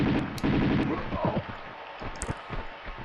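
Rapid gunfire from the big guns in the Tomb Raider 2 video game, a quick rattling burst early on followed by scattered shots, with a person talking over it.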